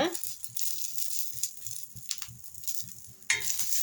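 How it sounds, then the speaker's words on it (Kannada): Curry leaves crackle and sizzle in oil on a flat griddle pan alongside green chillies, a steady bright hiss with sharper bursts and a sudden louder flare near the end, a voice murmuring low underneath. "ಕರಿಬೇವು ಹಾಕ್ಕೊಂಡು ಈ ಥರ ಫ್ರೈ ಮಾಡ್ಕೊಳ್ಳಿ ಫ್ರೆಂಡ್ಸ್"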